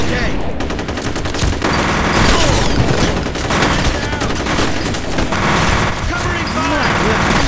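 Sustained automatic gunfire in a F.E.A.R. video game firefight, dense rattling bursts that pulse and surge throughout at close range, loud, with shouted voices mixed in.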